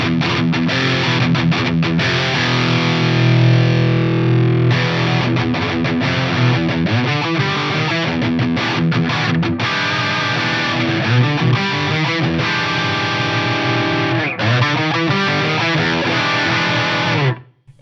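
Electric guitar played through a Crazy Tube Circuits Black Magic MK II distortion pedal: thick, biting distorted chords and riffs with a fast attack, loud and continuous for the full stretch before cutting off sharply at the end.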